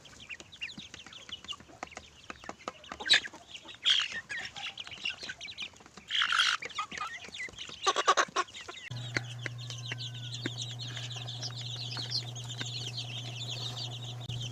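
Chicks and young turkeys in their second week after brooding cheep and cluck in scattered bursts, fairly close, followed by a steady low electrical hum beneath continued soft peeping.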